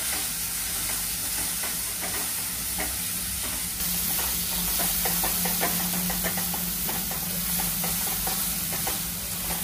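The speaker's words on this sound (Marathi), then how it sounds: "आणि हा जो आपण बारीक चिरलेला कांदा होता तो याच्यात टाकून घेऊ। ठेचा आता हे आपण छान असं परतून घ्यायचं।" Finely chopped onion and thecha sautéed in a pan for a paneer methi dish: a continuous close sizzle with repeated spatula taps and scraping against the pan, steady throughout.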